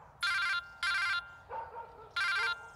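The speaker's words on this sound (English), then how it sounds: "Come on, Olga, pick up the phone." A telephone bell rings in three loud, sustained bursts with short pauses between them, while a small dog whimpers and yelps in the gaps, indoors at a dramatic moment in a romance film.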